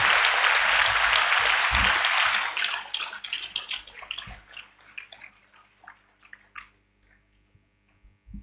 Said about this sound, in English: give the Commandant another round of applause